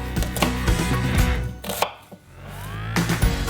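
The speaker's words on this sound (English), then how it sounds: "Starting with the onions, slice the ends off, slice them in half, peel them and then finely chop." A knife finely chopping onions on a cutting board, with quick irregular taps, a short pause, then more crisp strikes, heard close up and with no talk.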